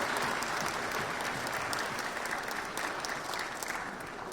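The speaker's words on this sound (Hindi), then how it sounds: "तालियों के साथ करें स्वागत।" Applause fills a hall at the National Film Awards ceremony as a prize is received, a steady wash of many hands clapping throughout, slowly easing toward the end.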